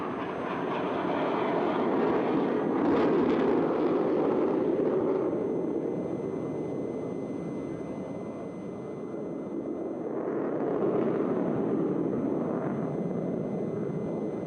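A MiG fighter jet roars during a Navy Day air show performing aerial stunts. The sound is a broad, sustained rumble that swells loud, eases, then surges again as the jet passes, with no voices over it.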